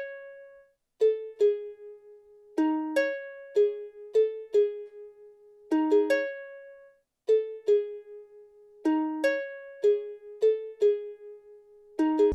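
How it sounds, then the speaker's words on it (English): A plucked-string style counter melody played on DSK World Strings in FL Studio, with clean repeating phrases of short notes and clear pauses, heard alone with no voices. "Then on DSK World Strings, I went up with this preset and I came up with this counter melody."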